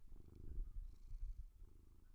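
A cat purring close to a microphone, a soft low rumbling rhythm that pulses steadily and quietly with no talk over it.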